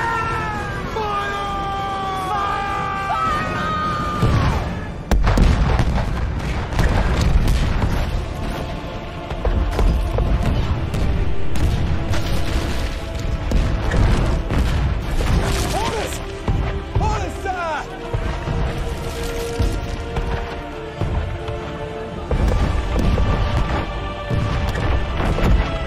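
Ship cannons fire in a naval battle: heavy booms and crashes burst repeatedly amid shouting voices and chaotic noise, loud and dense, with yowling cat-like cries early on.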